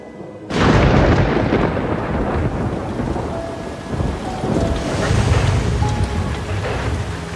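A sudden loud crack of thunder breaks in, followed by a long rolling rumble over steady, heavy rain.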